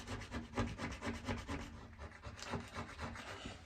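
A scraper drags back and forth over painted wood, leveling a paint run in a steady rhythm of close, raspy strokes, about two per second, with no voices.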